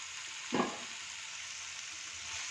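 Broccoli frying in butter and garlic with onion, stirred once in the pan: a steady soft sizzle throughout with a brief scraping stir near the start.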